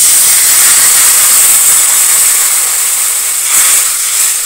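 Vegetables frying in a pan with turmeric powder, a steady loud sizzling hiss that holds evenly throughout with a brief swell near the end.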